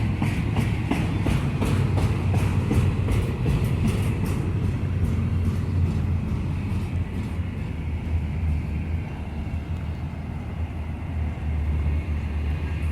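A westbound Union Pacific intermodal stack train passing in Roseville, California: loud, close, steady wheel rumble with rhythmic clickety-clack over rail joints that continues throughout, with no talking.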